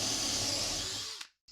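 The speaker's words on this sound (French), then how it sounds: "On vérifie qu'il soit bien appuyé et on perce." A power drill bores into a piece of wood through a drill guide, a short steady high whir that winds down and stops, then a faint brief restart.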